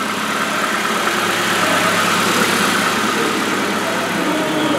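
A low-mileage car with aluminum wheels runs without its exhaust pipe, a loud steady idle with a raw, rumbling drone that stays constant and close throughout.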